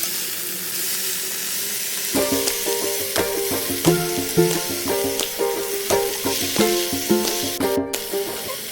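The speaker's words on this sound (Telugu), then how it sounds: "ముందుగా కట్ చేసుకున్న పాలకూరను తీసుకుని వేసుకోవాలి వేసుకుని మొత్తం మంచిగా కలిసేటట్టు కలుపుకోవాలి" Chopped spinach dropped into a hot pan with ginger and stirred for palakura pappu, giving a steady sizzle with repeated scraping and clinking stir strokes that grow busier after a quiet start, with no voices.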